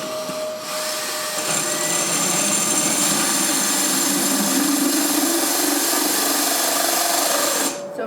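A power drill bores holes in hard clay pots, giving a steady, loud, high-pitched whine that starts abruptly, holds close and continuous for several seconds, then cuts off at the end.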